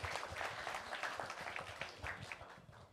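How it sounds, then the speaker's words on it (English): Faint, distant audience applause at a live anesthesia crisis competition, a steady patter of many hands clapping for the competing teams. "Big round of applause to all the teams."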